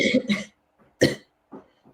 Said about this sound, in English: this is a cough I still can't get rid of